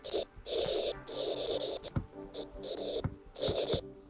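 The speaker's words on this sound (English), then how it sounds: "It feels like you're writing on actual paper with a pen or pencil, right?" An S Pen stylus writing on a Galaxy S22 Ultra screen makes crisp scratchy strokes in short bursts separated by brief pauses and light taps, close up and fairly quiet.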